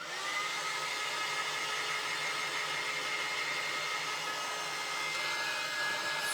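A hair dryer runs steadily at close range, a continuous even blowing whine with no pauses and no talking.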